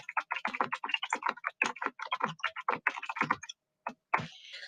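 Rapid, close clicking of a computer keyboard as quiz questions are typed, steady bursts of keystrokes with a brief pause near the end before a few more taps.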